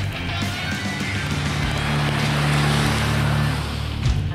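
A 2019 Ram Heavy Duty pickup with a high-output Cummins turbo diesel pulls a 35,100-pound load, its engine droning low and steady under road and wind noise, rising slightly before easing off.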